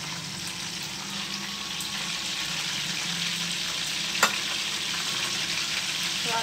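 Mutton for Shinwari karahi frying in a karahi with ginger-garlic paste to come, giving a steady, close, even sizzle throughout with one brief sharp clink near the end; no talking.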